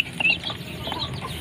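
A guinea fowl chick hatched in an incubator, giving high, thin chirps close by, with faint scratching and shuffling underneath.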